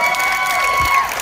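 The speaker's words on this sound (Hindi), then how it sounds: "जोरदार तालियां" Applause from an audience at a gathering, a brief, dense, steady patter of many hands clapping beneath a constant tonal hum.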